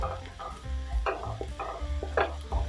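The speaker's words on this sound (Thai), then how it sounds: "ใส่กระเทียมลงไปผัดได้เลยค่ะ" Garlic tossed with onion in butter or oil for stir-fried macaroni with minced pork, a close continuous sizzle with quick rhythmic spatula scrapes against the pan and no talking.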